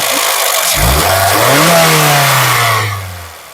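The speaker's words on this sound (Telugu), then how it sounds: "కొత్తగా ఒకసారి ఎక్సలేటర్ ఇచ్చి చూపిస్తున్నాను" A 2010 Honda City V automatic engine revs once on the accelerator, rising from idle to a sustained loud drone before easing back down, close and alone.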